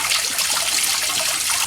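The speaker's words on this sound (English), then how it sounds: "Looks like the flush is working pretty good since this water is really rusty" Rusty water gushes steadily out of a Dodge Ram cooling system during a flush, a continuous close splashing trickle with no pauses.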